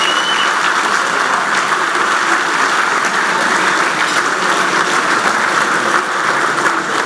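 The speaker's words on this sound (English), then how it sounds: "How about a round of applause for these guys?" A room full of golfers at an annual general meeting claps steadily and loudly for several seconds, a dense even wash of applause with no talking.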